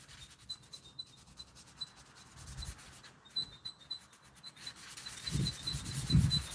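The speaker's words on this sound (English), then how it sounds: "So the reason I selected a new bit of sandpaper there because I'm hoping that the grit snatches the little bits" Fresh sandpaper rubbing across a surface in soft repeated strokes, fairly quiet, with a few louder scrapes near the end and no talking.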